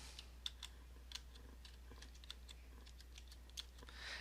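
Typing on a computer keyboard: light, irregular clicks of individual keys tapped at a relaxed pace, close up and fairly quiet over a steady low hum, with no voices.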